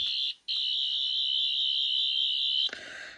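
A NAWYA Replicas Tenth Doctor sonic screwdriver replica activates with a steady, piercing high electronic whine, briefly cut then held for about two seconds before stopping with a short trailing buzz, close and clear.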